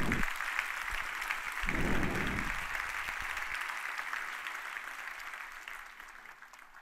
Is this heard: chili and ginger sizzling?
no